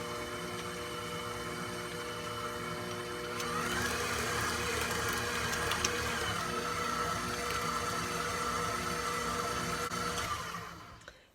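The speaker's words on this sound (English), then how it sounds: "I'm going to mix in the yeast and water." Electric stand mixer running steadily as yeast and water are mixed into bread dough, a continuous motor whir with harmonic hum that grows louder partway through and then winds down at the end; no talking.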